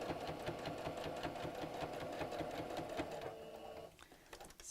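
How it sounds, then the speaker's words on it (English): A domestic sewing machine stitches slowly and carefully over a wire inside a fabric Easter bunny door hanger, its rapid rhythmic needle clatter running steadily and close up before slowing and stopping. "So I'm just going to sew very carefully as I go over the wire."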